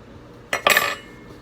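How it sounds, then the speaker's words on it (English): A fork presses and crimps the edges of a homemade beef and cheese empanada on a plate, making one short close burst of scraping clinks against the plate, with quiet before and after. "And just go around the edges with the fork, sealing it up."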